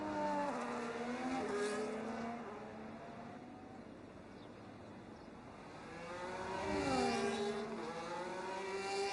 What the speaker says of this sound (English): You can hear a number of drivers looking to get their final lap started.